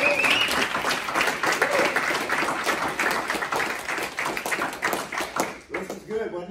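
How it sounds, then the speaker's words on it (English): An audience applauds, a dense wash of clapping that carries on for several seconds with voices mixed in, then begins to thin out. "Let's give a round of applause."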